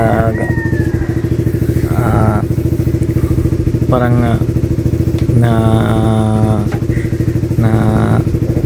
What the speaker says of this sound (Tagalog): hindi na masyadong maganda yung yung tunog ng tambutso natin